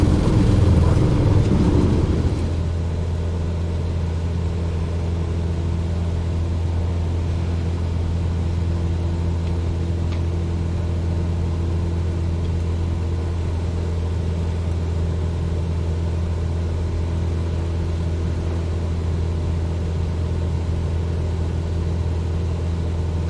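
Aircraft engine in a flight simulator game, climbing at a steady drone with a strong low hum and constant rumble. A brief louder burst opens it, then the sound holds evenly throughout with no speech.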